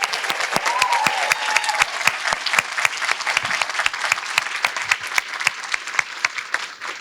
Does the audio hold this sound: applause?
yes